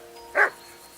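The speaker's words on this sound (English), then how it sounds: "That barking was a pain in the ass." A single short bark from a dog in the medieval video game Kingdom Come Deliverance 2, one clear sharp bow-wow rising over a quiet background, heard alone without talk.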